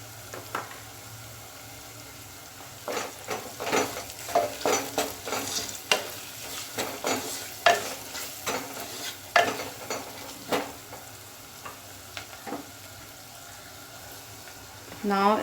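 Onion sautéing in a pan for Bengali-style chicken potato curry, with a low background sizzle broken by repeated scraping stirs of a spoon in an irregular rhythm, fairly close.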